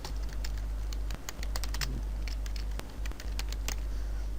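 Rapid, uneven key clicks from a computer keyboard while someone types a filename into Microsoft Word 2013, close and fairly crisp, in short bursts with brief pauses.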